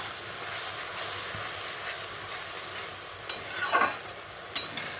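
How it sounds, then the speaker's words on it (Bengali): Fish curry masala with green chillies is sautéed and stirred in a pan, giving a steady soft sizzle with a few sharp spoon scrapes and clinks near the end. "তো বন্ধুরা, আমি এটাকে সুন্দর করে কষাতে থাকি।"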